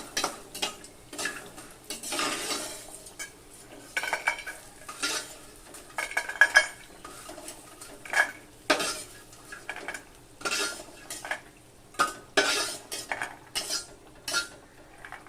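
Fried lentil dumplings are lifted out of a frying pan into a bowl with a metal spoon, making a series of sharp, irregular clinks and scrapes of metal on metal over a faint background sizzle.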